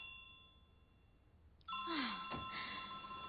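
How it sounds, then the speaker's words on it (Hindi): A phone starts ringing indoors with a bright electronic tone after a quiet pause. It rings close and fairly loud over faint background hum. "फोन बज रहा है।"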